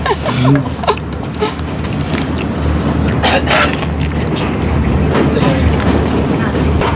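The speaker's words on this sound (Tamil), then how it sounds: "ஹலோ, ட்ரெயின் பயணம்." A train to Colombo, Sri Lanka rumbles steadily along the rails with a continuous low roar and occasional clatter, heard from inside, with faint voices in the background.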